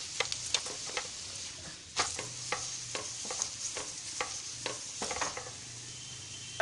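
Spinach and paneer paratha cooking in oil on a hot pan, with a steady soft sizzle and scattered crackles and pops, plus occasional light scraping as it is handled.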